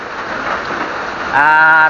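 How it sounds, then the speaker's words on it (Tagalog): Heavy morning rain in a rural province, a dense steady hiss throughout, with a voice speaking over it near the end. "Malakas yung ulan mga ka-idol."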